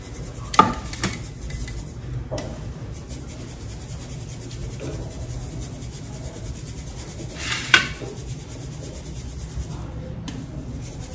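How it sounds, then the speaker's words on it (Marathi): Coriander powder is sifted through a sieve in a kitchen, giving quiet, continuous rubbing and scraping with a few sharp taps of the sieve against a plate. "तर आता इथे ना मी पूर्ण चाळणीने चाळून घेते"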